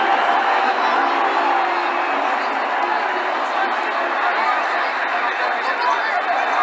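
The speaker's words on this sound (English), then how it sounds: "That shot brought the crowd to their feet." Video-game cricket crowd in Cricket 2009 roaring after a six, a dense, steady wall of cheering and chatter that holds loud and even throughout.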